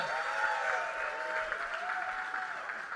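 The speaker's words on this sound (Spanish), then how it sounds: "¡Fuerte el aplauso al Mora," A live comedy show audience applauds the performer Mora in a steady, full burst of clapping about three seconds long. A sustained tonal cheer or whistle rides over the claps.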